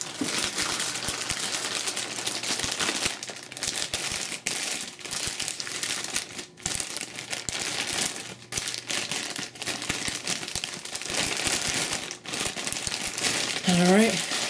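Plastic packaging crinkles and rustles steadily at close range while a Turtle Beach Ear Force XP500 gaming headset is unboxed, with a brief voice near the end.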